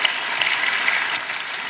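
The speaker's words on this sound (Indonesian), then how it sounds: "Berikan tepuk tangan kita untuk Tuhan kita." Brief burst of church congregation applause, dense and steady clapping from many hands, fairly loud throughout.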